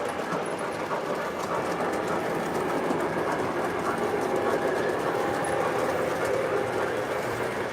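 An O scale model train runs continuously on its track, giving a steady, rattling rumble with faint clickety-clack throughout at moderate volume.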